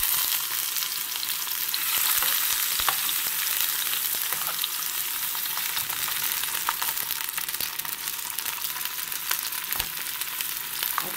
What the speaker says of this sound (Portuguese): Vamos dar uma fritadinha nesse camarão aqui, ó.